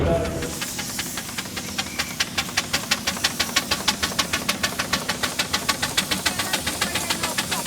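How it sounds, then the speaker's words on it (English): A miniature steam engine at a vintage steam show chuffs and knocks in a fast, even rhythm of sharp hissing beats, loud and close, after a brief opening hiss. "we've got some more of our miniature engines now."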